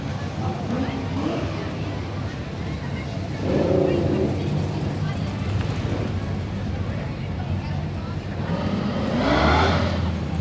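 A Holden Torana LC cruises past at an outdoor moving car show, its engine rumbling steadily and swelling as it passes, with other cars droning nearby and someone talking throughout.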